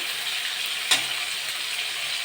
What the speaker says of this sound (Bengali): বাগদা চিংড়িগুলো বেশি ভাজবো না হালকা ভাজবো